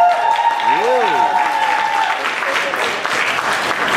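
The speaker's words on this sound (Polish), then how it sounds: "Wielkie brawa!" Steady applause from a fundraising auction crowd at the 2018 WOŚP charity event in Radzyń Podlaski, dense and continuous throughout with a tonal whistle or feedback line and a voice briefly audible over it.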